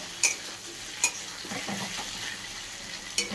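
Potatoes and onions fry in a pan with a continuous gentle sizzle, broken by a few sharp clinks of a spoon stirring against the metal.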